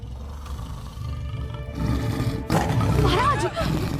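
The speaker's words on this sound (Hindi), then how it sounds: "महाराज, बाहर बाघ की गर्जना सुनाई दे रही है।" A tiger roars outside a royal camp, a deep rumbling roar that swells into a loud, harsh growl over a low background score, heard without talk.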